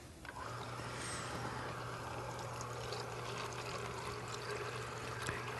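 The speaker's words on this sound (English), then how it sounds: "if you run water through your juicer" Water runs through a home juicer in a steady, continuous pour and trickle, a soft even wash of splashing with a low motor-like hum underneath and no talking.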